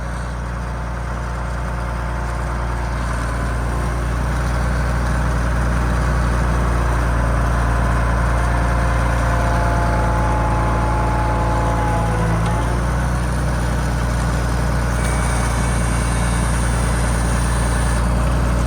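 A farm tractor idles with a steady low engine drone close by throughout, while feeding cattle near round hay bales in a muddy field.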